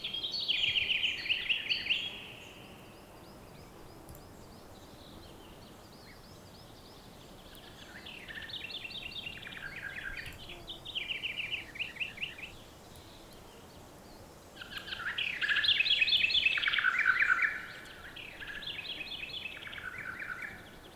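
Songbirds call in a forest ambience shaped in FMOD Studio sound design with reverb, their bursts of bright chirps and trills coming in clusters with gaps between, sounding somewhat distant and washed over a faint background hiss.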